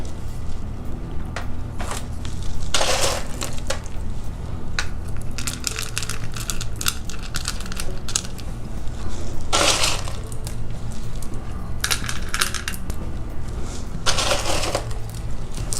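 Small rocks clatter and crunch in short bursts as handfuls are placed into a pentagon-shaped glass succulent terrarium, with pauses between handfuls.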